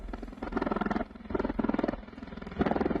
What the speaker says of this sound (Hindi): ये CV-22B सैन्य विमान ने युद्धाभ्यास किया है